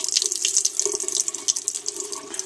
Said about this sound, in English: You gotta let the water out